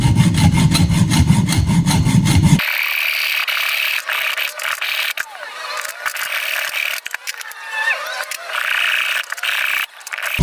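A manual hacksaw works through a thick aluminium handle, giving steady rasping back-and-forth strokes up close, preceded by a short burst of louder mixed noise.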